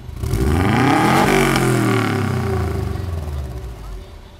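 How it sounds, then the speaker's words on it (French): A rare Subaru Impreza, a Tommykaira M20B, revs loudly close by with a deep growl that swells and then slowly settles back toward idle, with a voice speaking briefly over it. "Ah, c'est quand même excitant un bruit de Subaru"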